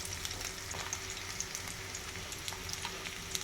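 Garlic fries in oil in a pan over onion, a soft continuous sizzle dotted with small crackling pops, fairly quiet and steady with no talking.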